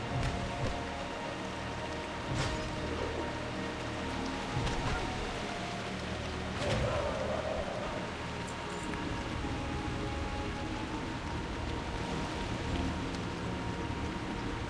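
Rain in World of Warcraft falls as a steady, dense hiss throughout, with a few faint clicks and thuds from the game over it.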